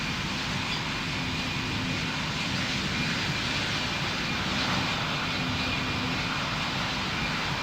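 An airliner takes off in Pilot Training Flight Simulator, producing a constant dense jet roar that fills the whole clip at an even, loud level without pauses.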